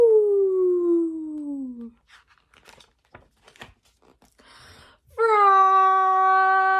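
Children's voices imitating a ghost with a long, wavering "ooh" that slides downward, followed by quiet rustling and scattered faint sounds, then a second sustained, steady group "ooh" held loudly near the end.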